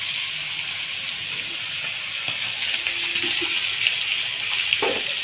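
Dried salted fish roasting in a pan: a steady, close sizzling hiss runs throughout, with a few faint clicks and small pops and no talking.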